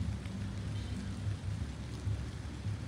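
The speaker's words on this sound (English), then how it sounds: "Right now, we're getting some rain here." Rain pours down at Taal volcano in the Philippines, a steady close wash of hiss over low rumbling wind, with no voices.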